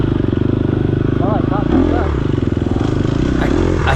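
An off-road dirt bike shifts into third and runs wide open coming out of a turn on a race course, its engine droning loud and close with a steady buzzing pulse and rising pitch, plus some clatter, lasting the whole stretch.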